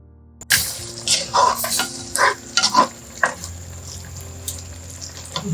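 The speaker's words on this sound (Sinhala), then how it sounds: "දැන් ඉතින් මේක නටන්න ඕනේ." Fish vinegar curry with coconut milk cooking in a pot, with several bursts of stirring and sizzling scrapes over a steady low simmer, close and fairly loud, no talking.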